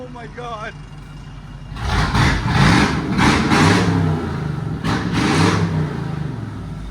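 A 1999 Ford E-250 van with a 5.4L V8 and true dual straight-pipe exhaust revs hard and loud after a quiet opening, holding a roaring, pulsing drone with repeated throttle blips close by.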